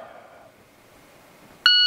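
A shot timer gives a single loud, sharp electronic beep during dry fire practice. The beep comes near the end, after a stretch of quiet room tone.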